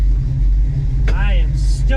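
1967 Chevrolet Nova engine idling with a deep, steady low rumble close by, while a person talks briefly over it.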